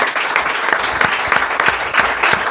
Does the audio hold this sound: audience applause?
yes